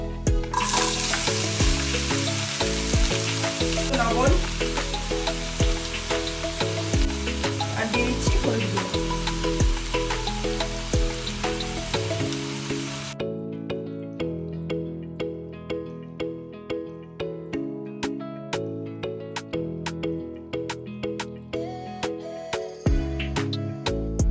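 Chopped bottle gourd goes into a hot pan with a loud, steady hiss of sizzling that cuts off sharply partway through, followed by quieter, clicking cooking sounds under a steady tonal background.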